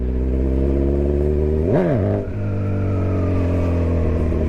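A motorcycle engine idles loudly and close, then a quick throttle blip sends the revs sharply up and back down before it settles into a steady idle again, as when lifting into a wheelie.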